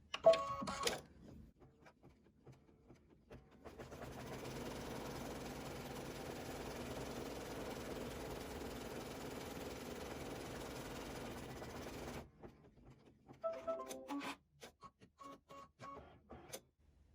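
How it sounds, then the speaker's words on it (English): An embroidery machine stitches a zigzag stitch around the edges of an appliqué piece, giving a steady mechanical whirr for about eight seconds, framed by quieter clicks and ticks before and after. "Next is going to stitch that zigzag stitch to tame those outer edges."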